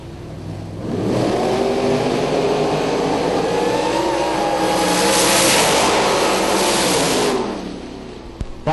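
Drag race cars at the Yellow Bullet Nationals, including a supercharged blower car, roar down the strip in a loud, sustained acceleration that builds, holds for several seconds, then drops away.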